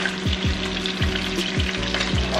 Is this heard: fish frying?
yes